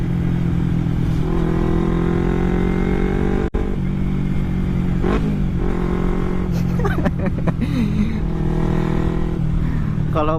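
A carbureted Kawasaki Ninja 250 motorcycle with an Akrapovic exhaust runs close and loud throughout, its steady drone climbing in several quick revs toward the end.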